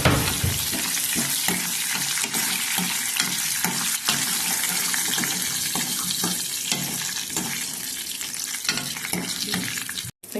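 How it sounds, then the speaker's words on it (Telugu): Dried chillies, curry leaves and asafoetida fry in hot oil for a Telugu masala charu tempering, giving a loud, continuous crackling sizzle with brief stirring clinks that cuts off abruptly near the end. "ఎండుమిరపకాయలు, కరివేపాకు ఇవన్నీ వేసుకుందాం పోపులోకి. ఆయిల్ హీట్ ఎక్కింది."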